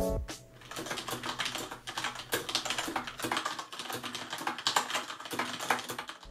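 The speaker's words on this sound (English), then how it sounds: "So the switches I have in this keyboard are Cherry MX Red switches" Steady, rapid typing on a Corsair Strafe mechanical keyboard with linear Cherry MX Red switches, smooth keystrokes without clicks, close and continuous.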